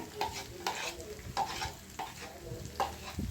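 Onions sautéed golden brown in a pan for onion pickle, heard as repeated stirring scrapes and clinks every half second or so over a soft sizzle, fairly quiet and with no talking.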